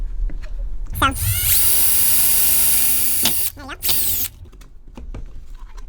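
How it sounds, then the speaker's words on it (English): A power drill whines loudly in two bursts, revving up and winding down, with a short pause between them, drilling holes in a BMW E36 headlight. "basically what we're gonna do after that is just drill them"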